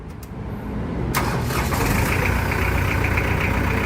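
A 4.3L lorry engine cranks briefly on a 12V lithium battery and catches, then settles into a steady, loud, rumbling idle close by. There is no talking.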